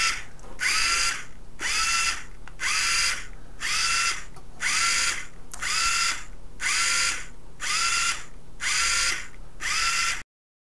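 Small DC gear motors of an Elegoo Smart Robot Car V3 kit whir in about ten regular bursts of roughly half a second each, evenly spaced with brief pauses between them, close and steady over a faint constant hum.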